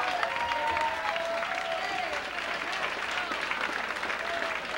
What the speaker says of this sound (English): I think they deserve the biggest round of applause possible.